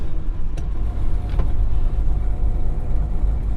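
A 1938 Armstrong Siddeley with a Wilson pre-selector gearbox, slightly low on compression in a couple of cylinders, shifts up into fourth: a loud, steady low engine drone inside the car with a couple of faint brief clicks.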